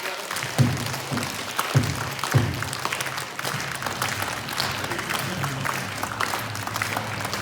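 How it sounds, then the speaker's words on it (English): An audience at a fire department's Fire Prevention and Safety Week event claps steadily together for several seconds, a broad wash of hand claps with a few sharper thumps early on, moderately loud. "can you guys help me by putting your hands together and clapping?"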